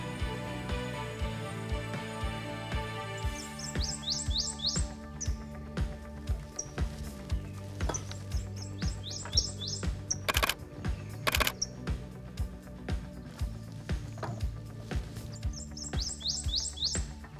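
A prothonotary warbler sings from cypress trees in a swamp, repeating bright, rapid chirping phrases several times over a steady low drone, with scattered clicks between songs.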